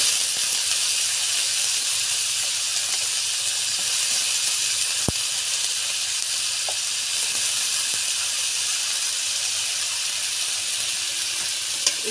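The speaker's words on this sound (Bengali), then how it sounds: "ভালো করে ভেজে নেব।" Bitter gourd and potato pieces fry in a pan with a steady, loud hiss of oil that runs unbroken throughout, marked by a few faint ticks and clicks.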